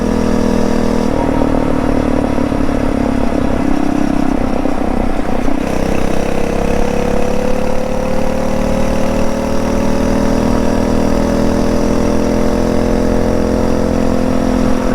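A Phatmoto Rover motorized bike engine holds near 5,100 RPM, a loud, steady close-up drone whose pitch climbs slightly and smoothly partway through, with no talk over it.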